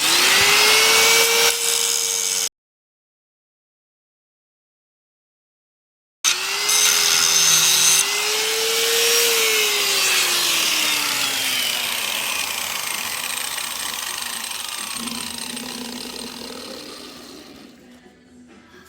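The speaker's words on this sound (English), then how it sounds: "Well, a little more grinding." Metal grinding on a PMT front suspension part, a loud, steady power-tool whine with shifting pitch, broken by a short silent gap before the grinding resumes and slowly tapers off.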